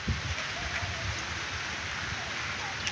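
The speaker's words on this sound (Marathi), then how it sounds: "पाऊस आता चांगलाच फुटला आहे पुन्हा सुरुवात झाली" Steady rain falling, a dense even hiss of drops pattering on surfaces, continuous and moderately loud throughout.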